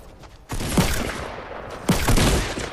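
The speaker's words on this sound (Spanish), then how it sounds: "Alguien me está disparando por atrás." Rapid bursts of gunfire in the video game Fortnite, loud and close, with dense overlapping shots in two main volleys and no talk over them.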